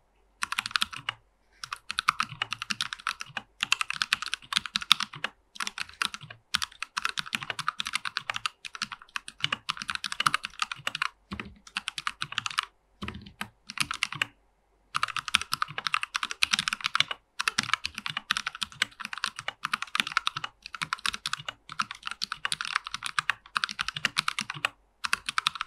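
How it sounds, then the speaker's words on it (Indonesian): Fast typing on a custom mechanical keyboard fitted with an artisan koi keycap, with crisp, close keystrokes in quick bursts broken by short pauses and no talk. "berikut typing test dari keyboardnya Bayu"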